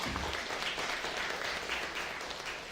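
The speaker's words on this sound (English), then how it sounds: "Go ahead, you can clap." Audience applause at the finale of a young writers' event in Cayman, a steady wash of clapping that holds evenly from start to finish at a moderate distance, with no voices over it.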